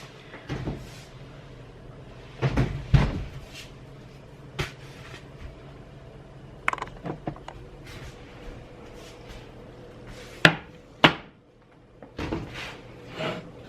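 A home oven door opened and shut as a cheesecake crust is set inside, heard as scattered close wooden-sounding knocks, clunks and a couple of sharp bangs over quiet kitchen background, no talking.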